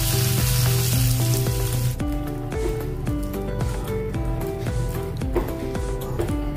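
A hot tempering of oil and dried red chilies is poured into a cooked spinach dish, setting off a loud sizzle that continues as steady crackling.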